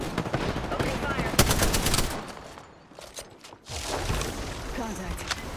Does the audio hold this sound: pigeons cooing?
no